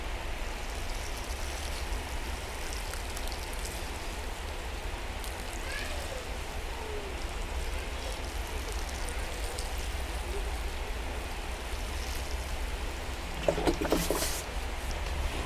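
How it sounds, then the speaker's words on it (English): Water poured from a can or hose over freshly sown vegetable seeds in soil, a steady soft hiss and patter like light rain that holds evenly throughout, with a brief louder splash near the end. "Now we're going to water our seeds in."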